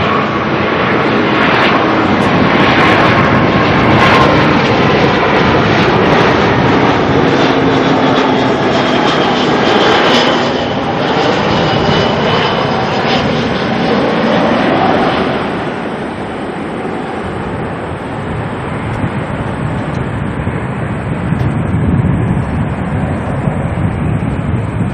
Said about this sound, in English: Jetstar coming in from Dunedin.